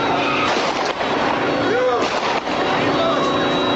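Loud, sharp gunshots in riot news footage as store owners at a shopping complex fire guns, repeated bangs over a constant crowd roar with people talking.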